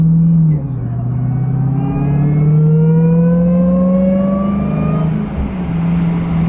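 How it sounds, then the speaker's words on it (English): A 2021 Dodge Charger SRT Hellcat Redeye accelerating at night, its supercharger whine rising steadily in pitch over a deep engine rumble, loud and close from inside the car, with a voice talking over it. "I know y'all hear that whine"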